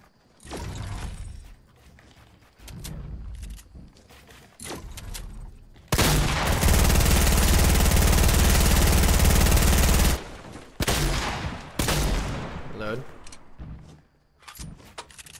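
A Compact SMG in Fortnite lets loose a long, dense burst of rapid automatic fire for several seconds, loud and close, with shorter bursts and game noises around it and a player talking.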